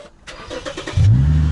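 A car engine cranks and catches after a short pause, jumping into a loud, close, steady idle with a low rumble.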